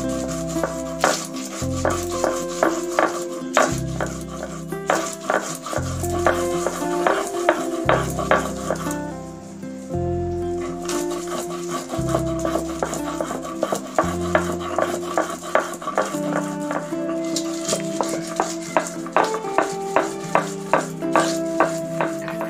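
Crabs ground into chutney on a traditional grinding stone give a loud, continuous rhythmic scraping and grinding, rolling back and forth in regular strokes, close up with no talk.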